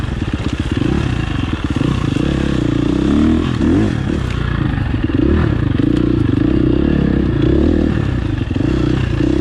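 Dirt bike on a single-track trail fitted with a Rekluse clutch and IRC VE33 tires, engine droning and revving steadily up close over a constant clatter and scrape of terrain, with no voices.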